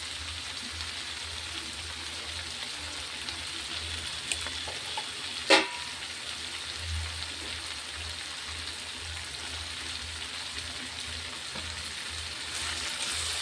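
Broad bean and tomato curry cooks in a pan with a continuous soft sizzle and bubbling, with one sharp clink of a stirring utensil partway through.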